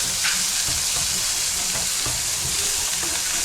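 Onions frying in a hot pan for homemade pizza, a steady close sizzle with faint stirring scrapes running throughout, no voices.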